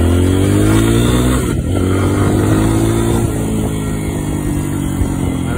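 A Lifan KPX 250 fuel-injected enduro motorcycle engine revving loud and close, holding a steady buzzing drone that rises and eases slightly, with no talk over it.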